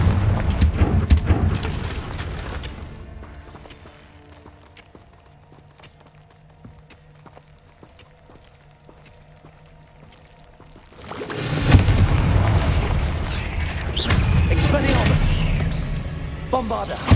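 Confringo fire spells explode in Hogwarts Legacy with loud booming blasts at the start, then quiet during a lull, then a second heavy cluster of explosions rolls in loud and close.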